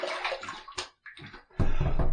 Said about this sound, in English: Let me just wet the face.